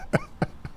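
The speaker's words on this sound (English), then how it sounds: "I have to cough" Three short coughs in quick succession, close up, each fainter than the last.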